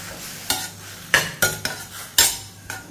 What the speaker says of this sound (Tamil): பாலக்கீரையும் தக்காளியும் நல்லா வதக்கிடுவோம்